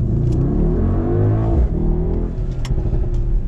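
A 2021 Mercedes-AMG GLS 63 in Sport Plus mode revs hard and close, its engine note climbing and dipping in a loud, continuous roar with no talk over it.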